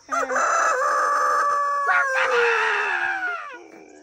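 A rooster crows on a farm homestay where chickens and cows are kept, one long loud cock-a-doodle-doo rising and trailing off, close and clear with no talk.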